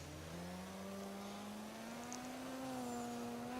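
A drift car's engine climbs steadily in pitch as it accelerates on a qualifying run in Coober Pedy, heard from a moderate distance with a continuous rising drone.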